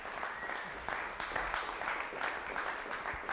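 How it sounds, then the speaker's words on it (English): An audience at a Shrine Circus show applauds, a moderately faint, uneven patter of clapping with small surges throughout. "Round of applause for Fez Head"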